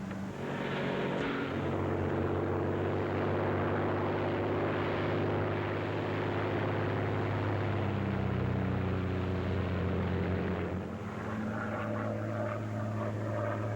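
Royal Air Force propeller aeroplane in flight during the Second World War era, a loud, steady droning engine roar with strong low harmonic bands that holds throughout, shifting pitch slightly near the end.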